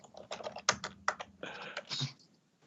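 Fast, uneven typing on a computer keyboard, with bursts of close, crisp key clicks and short pauses between runs.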